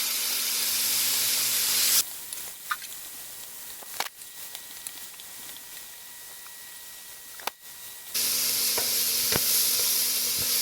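Food frying in a pan together with onions during home cooking, a steady soft sizzle and hiss with occasional stirring clicks, moderately quiet and heard alone.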